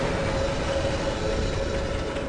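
A transit system train from Half-Life: Blue Shift runs along its track, producing a constant droning hum and rumble that stays even and fairly loud for the whole stretch, with no voices.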